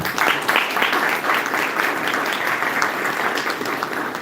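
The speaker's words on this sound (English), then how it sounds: "can we have a huge round of applause for both the teams?" Audience applause for both teams at a Toastmasters club event in Gurgaon, many hands clapping steadily at moderate loudness, with a few louder bursts near the start.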